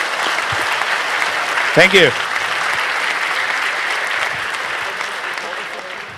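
An audience at a hacker conference talk on port scanning applauds the speakers with steady, dense clapping throughout, while someone briefly speaks over it near the middle.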